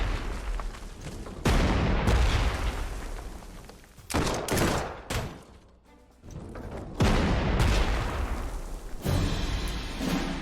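Artillery support fire in the WWII strategy game Panzer Corps 2, heard as a dense run of booming volleys and heavy blasts, loud and continuous with brief dips between salvos, no talk.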